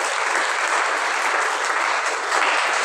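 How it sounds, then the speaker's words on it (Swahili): Church congregation applauding in a steady, dense wash of many hands clapping at once, sustained and fairly loud throughout with no pauses. "Patia Yesu makofi mazuri."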